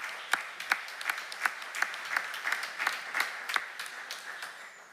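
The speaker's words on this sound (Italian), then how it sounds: "sentite un applauso ci vuole" A small audience at a live public talk on road safety claps for a guest. The claps are fairly quiet, distinct and somewhat rhythmic, and the sparse applause tapers off gently.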